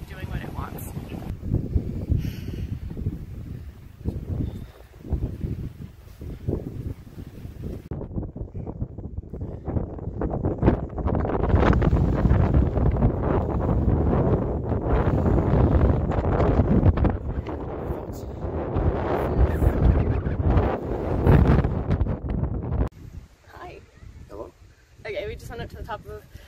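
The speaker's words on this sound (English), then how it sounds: "you can see the wind is just taking my tripod and doing what it wants" Strong gusts on a stormy mountain hike batter the microphone, roaring in loud, uneven bursts that swell and drop, with wind rushing around the recorder throughout.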